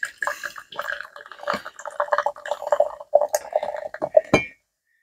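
Homemade strawberry beer poured into a glass, with gurgling, trickling liquid and light glassy clinks in irregular bursts. Heard up close, it stops abruptly into silence near the end.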